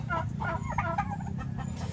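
A turkey hen on a backyard farm gives a quick series of soft, close clucks, several short calls following one another over a faint background.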